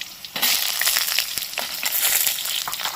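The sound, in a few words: diced potatoes frying in hot oil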